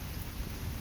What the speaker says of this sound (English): it's raining a little too hard now to really be out here